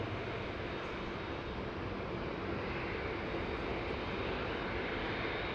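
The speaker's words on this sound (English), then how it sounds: "Qantas A380, we'll call it the A180. Because it's done a 180-degree turn and heading straight back to the terminal." A Qantas Airbus A380 taxiing back to the terminal at Sydney Airport gives a steady, unbroken jet engine roar that holds at an even level throughout, with no voices.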